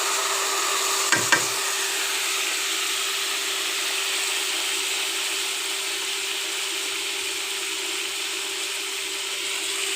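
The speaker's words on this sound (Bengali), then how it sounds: "মশলাটা একটু ভালোভাবে কষিয়ে নিচ্ছি" Spice paste of turmeric, dried chili powder, cumin, salt and ginger-garlic paste sizzles steadily in a pan, a constant close frying hiss with one brief clack of a utensil near the start.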